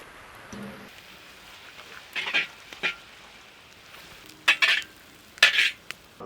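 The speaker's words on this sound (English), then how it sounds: "Saute until onions become brown color." Onions sautéing with ginger garlic paste in a pan for tomato fried rice, heard as a low background sizzle broken by several sharp spoon-against-pan clinks and stirring scrapes.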